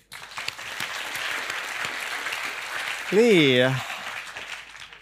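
Audience applause at an investment-strategy talk, sustained clapping that carries through, with a brief voice rising over it near the end.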